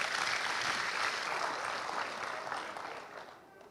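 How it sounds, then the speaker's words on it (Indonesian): An audience at an Indonesian talk show and awards event on stunting prevention gives the children a round of applause. The dense clapping holds steady, then tapers off at the end. "tepuk tangan dulu untuk adik-adik kita."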